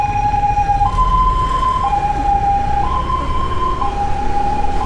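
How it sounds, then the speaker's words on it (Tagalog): An ambulance siren wails loudly on a street at night, its two-tone pattern alternating steadily over several seconds above a low rumble of traffic. "Ambulansya."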